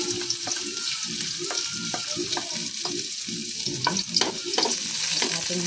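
Garlic sautéing in a pan with chicken, a steady sizzle under rhythmic, repeated stirring strokes of a spatula, close and fairly loud.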